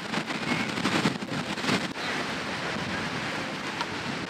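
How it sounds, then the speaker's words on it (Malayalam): Strong wind buffets the microphone at a beach, with a constant rushing roar of surf beneath, gustier and louder in the first two seconds and then steadier. "അതുപോലെ നല്ല കാറ്റുണ്ട്."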